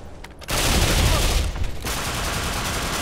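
Sustained automatic gunfire in a multiplayer shooter on the Chertanovo map, a loud continuous barrage of shots that kicks in after a brief lull and keeps rattling on.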